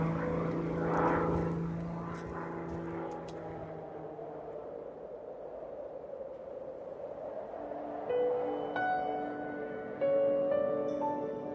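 An aerobatic propeller airplane's engine drones steadily with a smooth pitch sweep as it passes, loud at first, then easing and rising again with sharp tonal overtones near the end.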